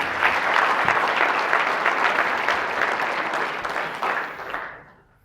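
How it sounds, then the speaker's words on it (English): An audience claps for volunteers who came up on stage, a full steady round of applause that tapers off and stops abruptly near the end. "Let's give our volunteers a big round of applause for coming up."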